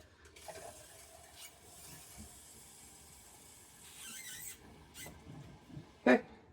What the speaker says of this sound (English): first I'm going to check the sink faucets just to make sure water is flowing back in